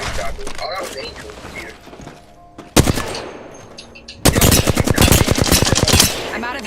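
Video game gunfire bursts out in rapid automatic strings, a short loud volley followed by a longer sustained burst, with a player talking over the shooting.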